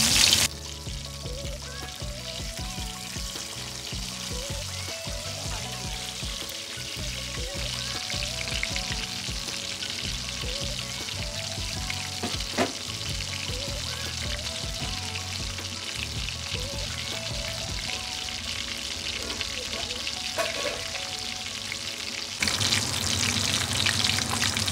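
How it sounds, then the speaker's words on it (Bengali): Pomfret fish fries in hot oil, turned from side to side, with a continuous, fairly loud sizzle and crackle that lasts throughout, while other tonal sounds sit in the background. "মাছটা কিন্তু ফ্রাই হচ্ছে, এপিট ওপিট করে খুব সুন্দর করে কিন্তু ফ্রাই করে নিতে হবে।"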